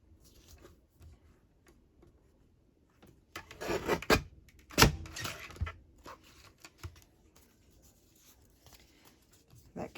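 Scissors cut through a glossy magazine page for a collage sheet, soft close snips and paper rustling that bunch together in the middle, with quiet gaps before and after and no talking.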